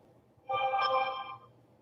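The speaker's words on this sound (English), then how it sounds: "It's like a cell phone." A cell phone ringtone sounds once for about a second, a bright tonal chime, close and clear over quiet room noise.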